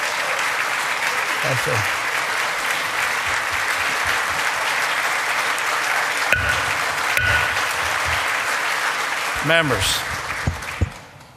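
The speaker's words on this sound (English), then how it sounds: "we know we don't applaud at the passage of any bill, no matter how much we might like it or not" Sustained applause fills a state legislature chamber after a Medicaid expansion bill passes, broad and steady for several seconds before tapering, with a presiding voice speaking near the end.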